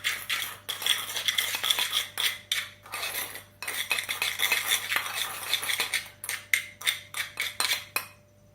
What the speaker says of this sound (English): I'm just going to put a little bit of my silver powder in, just a little, and then I'm going to mix it up